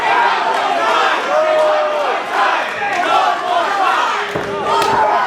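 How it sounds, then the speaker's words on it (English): Crowd at an independent wrestling match chanting and cheering loudly around the ring, rhythmic shouts and roars with thuds and slams, a commentator's voice running over the noise throughout. "The crowd wants one more."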